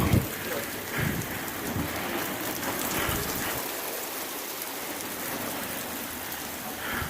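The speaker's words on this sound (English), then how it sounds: "the rain is dropping hard again" Heavy rain pours steadily onto a roof, a dense, loud hiss of drops drumming on the surface throughout, with no voices.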